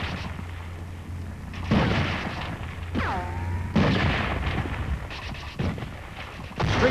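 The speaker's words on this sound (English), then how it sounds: "These are Marines and U.S. 7th Division troops advancing into Seoul under enemy fire." Gunfire and distant booms echo through Seoul's streets as Marines and U.S. 7th Division troops advance under enemy fire in the Korean War, sounding as scattered rough bursts and rumbling blasts with a descending whine partway through.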